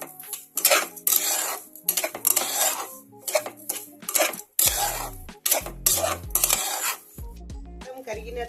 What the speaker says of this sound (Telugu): మొత్తం బాగా మిక్స్ చేసుకోవాలి